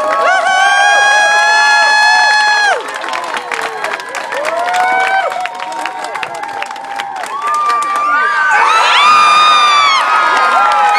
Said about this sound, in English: I want everybody out here to cheer one more time